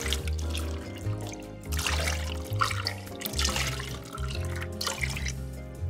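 Water runs from a tap into a cooking pot holding beef, bones, ginger and garlic for soup, a steady trickling stream under a low tonal hum from the kitchen.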